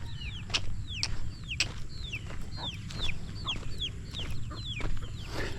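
Chickens cluck repeatedly in short, rhythmic calls, fairly close, over a low background rumble.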